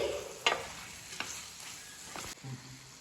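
A curry with a pinch of garam masala is stirred in a pan, giving a few close scraping and clinking strokes over a soft sizzle for a few seconds.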